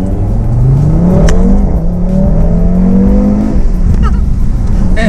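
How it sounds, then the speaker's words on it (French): An Audi RS3 with 400 hp makes a hard standing start, its engine revving loudly and climbing through rising pitch sweeps as it accelerates close by, with a brief shift in the middle and faint talk underneath. "Mais déjà un bon départ arrêté, vous allez voir, c'est assez impressionnant."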